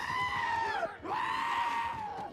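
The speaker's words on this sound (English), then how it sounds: "Giant goats!" Giant goats from Thor: Love and Thunder bleating, two long loud drawn-out wavering cries with a short break between, close and prominent with a faint rumble beneath.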